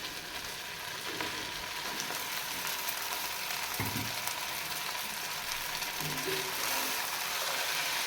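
Boiled rice is stir-fried with cooked chicken for a Chinese-style chicken biryani, giving a continuous close sizzle broken by scattered scraping and clinking knocks from a spatula against the pan.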